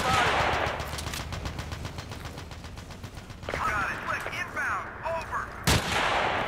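Gunfire in Battlefield 2 on an urban map: a rapid burst of automatic shots, then scattered single bangs and mechanical clatter, with one sharp loud crack near the end; a voice is briefly heard underneath.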